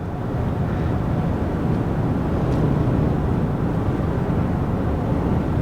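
A Ford Lightning electric pickup accelerates at wide open throttle up a 6% grade, heard from inside as a steady, loud low rumble of road and wind noise with no pauses.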